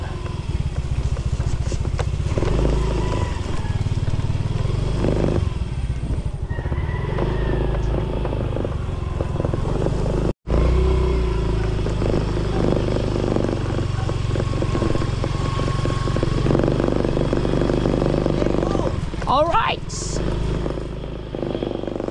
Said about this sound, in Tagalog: Gamit ko ulit yung motor ni Procent